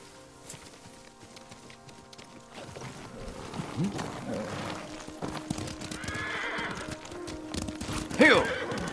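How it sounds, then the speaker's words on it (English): Horse hooves clop steadily in the Ghost of Tsushima video game as a ride gets underway, with a sharp whinny near the end, mixed with ambient music and environmental sound at moderate loudness. "Kazumasa, I do enjoy our rides together."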